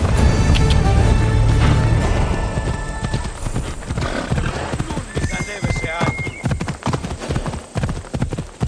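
A horse in the video game Assassin's Creed Odyssey gallops with rapid, rhythmic clip-clop hoofbeats and lets out a loud neigh near the start, while voices speak over the action.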